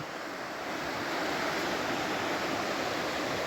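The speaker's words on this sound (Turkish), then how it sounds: "mis gibi su var bakın cıvıl cıvıl akıyor" A river swollen by heavy rains rushes past in a steady, dense broadband roar, close and continuous with no talk.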